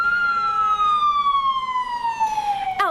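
An ambulance siren sounds outside Wellington Hospital as one long, loud wail that slowly falls in pitch, heard fairly near, with a brief rattle at the very end and no talking.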